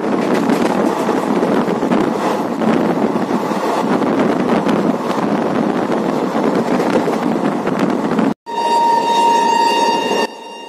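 Loud, steady rumble of a moving train on a ride, heard close with buffeting wind noise throughout, then an abrupt cut to a quieter stretch with a faint tonal hum.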